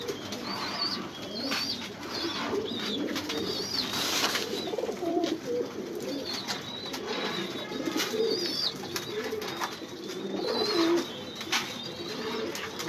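Pigeons kept by a breeder coo repeatedly in soft, rolling calls, several birds overlapping at close range against a constant background hum, with occasional chirps.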